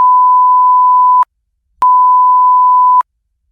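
A steady, loud censor bleep tone runs for over a second, cuts to silence, then sounds again for a similar stretch, two flat electronic beeps used to mask speech during a Holi vlog.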